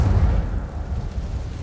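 An Incendio fire spell from Hogwarts Legacy lands as a dense, roaring blast that rumbles in the low end and sustains without a break for under two seconds.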